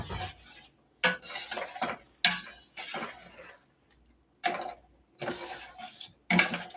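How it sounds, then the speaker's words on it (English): Beans and cilantro stirred into a pot of kidney bean chili with blueberries, giving bursts of scraping and clinking from a spoon against the pot, separated by short pauses, close and fairly loud with no voices. "I'm going to stir in the beans and half the cilantro"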